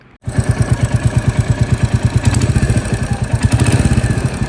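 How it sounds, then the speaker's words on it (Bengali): A Royal Enfield Meteor motorcycle engine starts and idles loudly up close, with a fast, rhythmic mechanical ticking and clatter from a loose tappet. "এই বাইকের ট্যাপিটের অবস্থা অনেক খারাপ, অনেকটা লুজ হয়ে গিয়েছে, একটা বিকট আওয়াজ করতেছে।"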